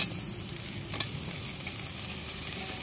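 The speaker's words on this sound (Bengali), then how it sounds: "এবার মশলাগুলো ভালো করে মিশিয়ে আমি কষিয়ে নেব।" Spices and chopped raw tomatoes sautéing in a pan for a light red katla fish curry give off a steady, moderate sizzle with a brief stirring scrape near the middle, no voices.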